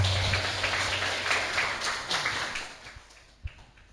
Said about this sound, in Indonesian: Boleh tepuk tangan untuk Bapak.